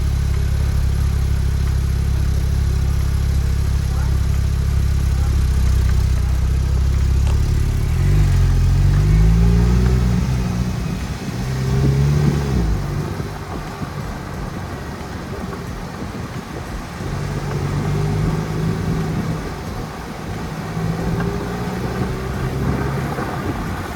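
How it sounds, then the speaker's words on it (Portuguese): A Porsche 911 Turbo on a city street revs and accelerates, its engine note climbing and swelling partway through after a steady idle-like drone, heard from nearby by a passing cyclist; no voices. "911 Turbo. Torcer para ele dar uma acelerada pra gente."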